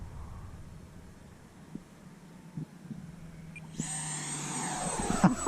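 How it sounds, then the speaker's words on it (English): A 55 mm electric ducted fan on a Value Hobby Dolphin jet EDF trainer spools up from a low hum into a loud, rising high-pitched whine close by. "Now that's only a 55 millimeter fan. It's just a little bitty fan."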